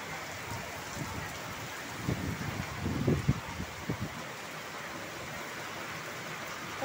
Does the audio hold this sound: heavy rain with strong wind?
yes